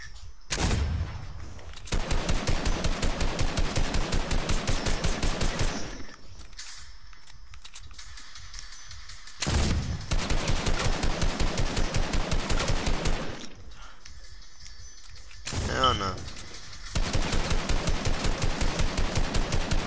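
Rapid gunfire from the Fortnite video game comes in three long, loud, dense bursts, with short quieter gaps between them.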